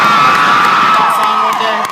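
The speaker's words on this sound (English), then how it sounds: "can we all just cheer really loud for Haley to give her some encouragement" A crowd at a Paramore fan Q&A aboard a cruise ship cheers loudly, high shrieks and whoops layered into a sustained roar that holds strong and dips only slightly near the end.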